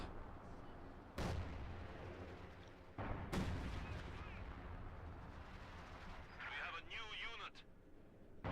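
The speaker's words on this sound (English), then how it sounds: "I have no idea where those artillery shots are hitting for some reason" Artillery guns fire in Company of Heroes 2 during a winter 2v2 match on Semoskiy, with two loud, sharp booming shots followed by battle noise, while a voice talks over the action.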